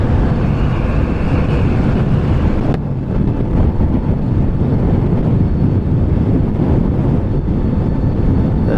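Heavy, roaring wind noise buffets the microphone as a Riding Times GT73 Pro runs at full throttle in turbo mode on a full battery, loud and continuous with a brief dip partway through.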